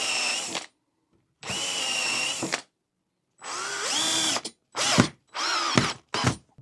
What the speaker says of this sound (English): All I do is just put a special bit on, and I can sink my screws